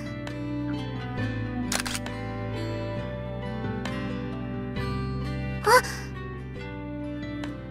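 A camera shutter clicks in a Project Sekai mobile game selfie scene, two short bright snaps heard over a steady, continuous music backing.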